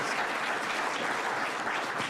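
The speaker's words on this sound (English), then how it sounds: "let's give him a round of applause" An audience at a New York governor's congestion pricing announcement applauds the city transportation commissioner, a brief, even burst of dense clapping from many hands, heard alone.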